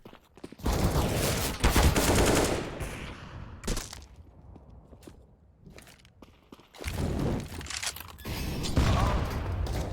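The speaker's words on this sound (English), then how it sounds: "Oh, nice shot by Wipeout." Rapid bursts of gunfire from a Counter-Strike match on the Dust 2 map, loud clusters of shots at the start and again near the end with quieter footsteps and movement between them.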